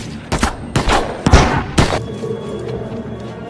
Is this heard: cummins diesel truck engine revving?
no